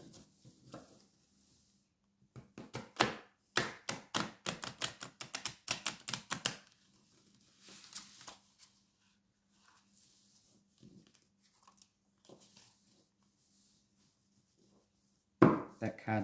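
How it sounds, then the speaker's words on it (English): Tarot cards being shuffled by hand in a quiet room, a rapid burst of crisp riffling clicks over a few seconds, then soft scattered card taps and a sharp handling sound at the end. "One more shuffle."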